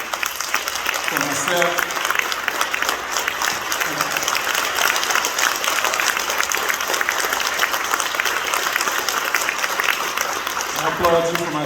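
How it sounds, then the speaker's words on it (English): A large audience at a Virginia Tech event gives a standing honored guest loud, sustained applause that fills the whole stretch, with a voice speaking briefly over it near the start and end. "I would like to applaud you"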